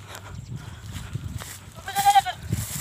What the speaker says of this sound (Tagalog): Ito yung kambing natin isa.